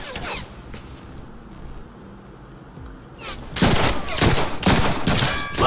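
Gunfire in the Deadpool video game comes as a loud, dense burst of rapid shots in the last two seconds, after a quieter stretch with faint game ambience and a few soft clicks.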